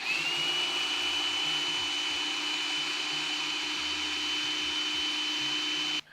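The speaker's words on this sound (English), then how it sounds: "So now, we're gonna grind the seasoning." An electric grinder whirs steadily while grinding seasoning for Jamaican mango chow with hot pepper, a continuous loud motor drone with a high whine that runs the whole time and cuts off at the end.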